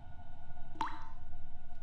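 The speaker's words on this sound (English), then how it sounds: "I don't like that dripping." A single water drip in the horror game Cry of Fear, one bright plop at close range against a quiet, humming ambient background.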